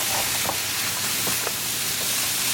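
Cut French green beans and taro root (arbi) stirred in a pan over medium gas, with a steady hiss of sizzling and a few soft scraping clicks of the spoon, no talking.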